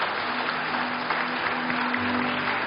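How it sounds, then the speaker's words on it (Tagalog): Loud applause from wedding guests at a church ceremony, a continuous thick wash of clapping held evenly for a few seconds with no voices. "Yung malakas na palakpak po para sa Panginoon."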